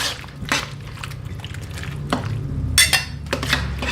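Sauce poured onto beef cooking for lo mein, with wet dripping and squishing, a few sharp utensil clanks against the pan, and steady stirring at close range.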